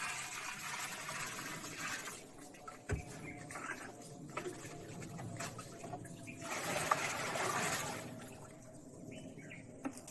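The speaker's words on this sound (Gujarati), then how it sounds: "ત્યારબાદ આ ગૌમૂત્ર છે 10 લીટર આ નાખવામાં આવે છે." Ten litres of cow urine is poured into a mixture at a bio resource centre, a soft, splashy liquid gush that swells near the end. Faint bird chirps and insect sounds run underneath.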